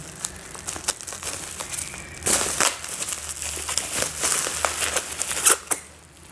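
Rolls of brown packing tape are unboxed, their plastic wrapping crinkling and crackling in irregular bursts of rustles and sharp snaps, close and fairly loud, with no voices.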